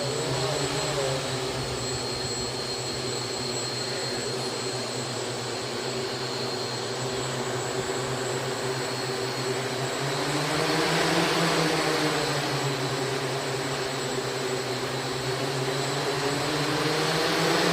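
Motors of a Xaircraft SuperX 650 eight-rotor octocopter drone running on test, a loud steady whining drone with a low hum and a slight rise and fall in pitch, close and continuous with no talk.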